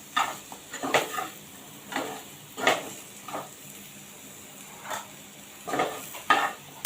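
Moringa drumstick pods are sautéed in masala in a pan, with a low sizzle beneath. Spoon scrapes and stirs come in separate bursts about every second, close by and with no talking.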